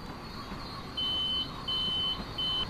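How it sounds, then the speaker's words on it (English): Three distinct electronic beeps from a Long Island Rail Road train cab speed signal, each about half a second long and evenly spaced, sounding clearly over the steady low rumble of the moving train. "Notice the triple beep. The speed went down to 40."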